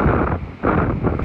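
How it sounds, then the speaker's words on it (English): Strong typhoon gusts buffet the microphone in roaring surges, dropping briefly before the next blast rushes in, on Miyakojima during Typhoon Lingling. "heavy rain and gusty winds blowing through"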